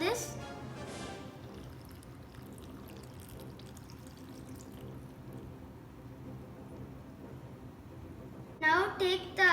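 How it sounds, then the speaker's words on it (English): Half a cup of milk poured into a blender or glass for a breakfast smoothie, a steady liquid stream running for several seconds at close range, ending in a few louder clatters. "Now pour the milk,"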